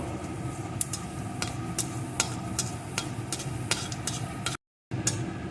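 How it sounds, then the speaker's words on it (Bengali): A dried red chili and five-spice seeds fry in hot oil, giving a steady sizzle with scattered sharp pops and crackles and the scrape of stirring, close up, with no voices. "এই তেলের ভিতরে দিয়ে দেবো একটা শুকনো লঙ্কা একটু পাঁচ ফোড়ন এখন ফোড়নগুলো সুন্দর করে ভেজে নেব"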